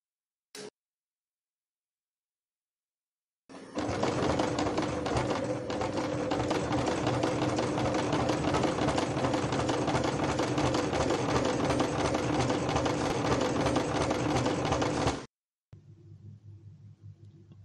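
A home sewing machine with a standard zipper foot and heavy-gauge thread stitches leather for a bag in one long, steady, loud whirring run of about twelve seconds, starting and stopping abruptly.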